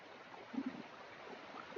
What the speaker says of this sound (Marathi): हा बघा आपला हा धबधबा